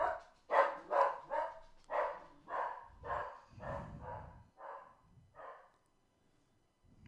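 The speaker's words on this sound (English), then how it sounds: "Barking at something." A dog barking repeatedly indoors, about ten sharp barks in an irregular series at moderate distance, fading into silence at the end.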